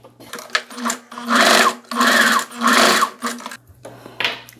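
A sewing machine stitches a seam along a strip of viscose fabric for a loose dress, running in three loud sustained bursts separated by short pauses, with a softer final burst near the end; no talking.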